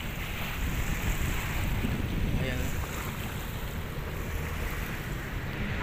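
High-tide waves at Manila Bay washing along the shore, carrying floating trash, with a steady surf wash and strong wind buffeting the microphone, plus a brief spoken word.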